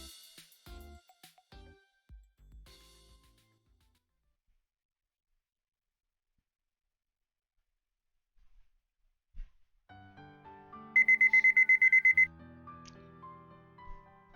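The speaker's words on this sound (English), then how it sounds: "I wake up a few seconds before my alarm and stop it as soon as it rings." In the visual novel 9-nine-, an alarm clock rings in a quick run of rapid electronic beeps and cuts off abruptly after about a second, following quiet stretches and soft game sounds.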